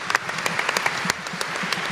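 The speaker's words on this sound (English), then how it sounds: "Big round of applause for Casey Veneto." A small audience at a gala event gives writer Casey Veneto a brief round of applause, a short burst of scattered, individually distinct claps that quickly thins out.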